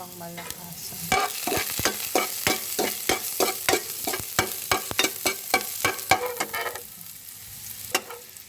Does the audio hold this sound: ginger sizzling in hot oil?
yes